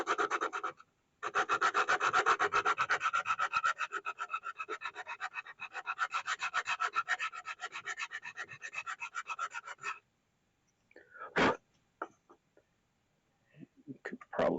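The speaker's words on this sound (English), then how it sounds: "I'm going to take the front edge of our scale and I'm just going to gently sand it down just to make sure we have a smooth edge" Sanding the front edge of a Bowie knife handle scale gives a steady, close rasping scrub of rapid back-and-forth strokes for about nine seconds, then stops, leaving a few isolated knocks and scrapes.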